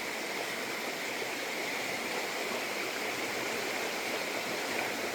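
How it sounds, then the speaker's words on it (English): Fast-flowing, swollen creek running high after rain, a steady, loud broadband rush of water with no pauses, heard close by with no voices. "You can see, man, this creek is ripping."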